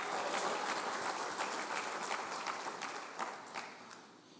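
A church congregation claps for the Lord during a sermon, a fairly quiet, dense spread of hand claps that stays steady and slowly fades over several seconds.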